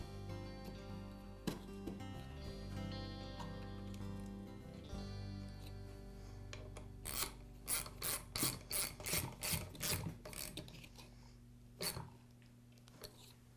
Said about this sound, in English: Now I'll reinstall the cooling fan.